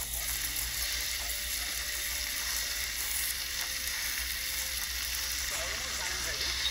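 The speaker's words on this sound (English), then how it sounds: "Now that the oil is medium hot, let's start frying these chicken pieces." Chicken pieces pan frying in medium-hot oil for butter chicken, a steady close sizzle and crackle with occasional stirring sounds, continuous throughout.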